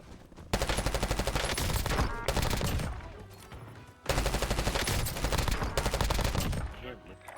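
AMAX assault rifle fire in Call of Duty Warzone, two long, loud, rapid automatic bursts separated by a short gap, close and dominant.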